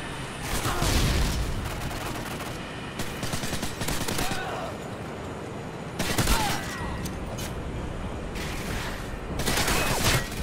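Gunfire in Modern Warfare 2 multiplayer, loud clustered bursts of automatic shots separated by brief quieter gaps, with rattling reports recurring across the stretch.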